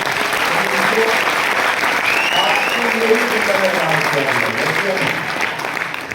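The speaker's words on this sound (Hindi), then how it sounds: "उन सबके लिए मैं चाहूंगा एक बार दिल से जोरदार ताली हो" Audience applause at a retailers' training and achievers event in Patna, a dense, steady clapping wash with crowd noise, loud and sustained throughout with voices mixed in.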